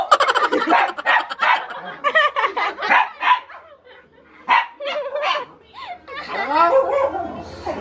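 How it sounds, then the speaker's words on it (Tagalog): Angry dogs bark in close, loud bursts amid people talking and laughing nearby. "Nagalit tuloy yung mga aso."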